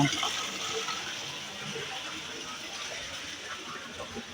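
Steady rushing water gushes continuously from an opened water valve at a mains supply, close and fairly loud, with a slight splash at the start and no talk over it.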